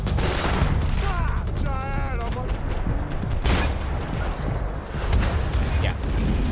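Shotgun blasts from Max Payne 3 gameplay, with heavy booming shots mixed under a voice and game noise, including a sharp crack near the middle and dense ongoing action.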